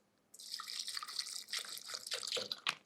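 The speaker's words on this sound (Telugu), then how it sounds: "ఇందులో కొంచెం వాటర్ వేయండి" Water splashes into a mixer jar in a short close stream, a bright trickling and gurgling pour that sputters in a few bursts before stopping.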